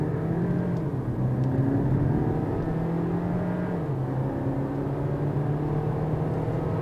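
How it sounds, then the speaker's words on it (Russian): A Dongfeng Shine car accelerates hard from inside the cabin, its engine note climbing steadily through a gear change with a constant rumbling whir and no talking. "И как у нас подрывает автомобиль?"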